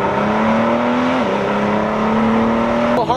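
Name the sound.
2017 Ford GT engine accelerating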